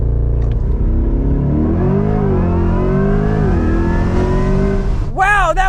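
A 2024 Chevrolet Corvette E-Ray launches hard from 0 to 60, a loud, close engine and drivetrain roar climbing steadily in pitch over several seconds, with a brief higher whine near the end.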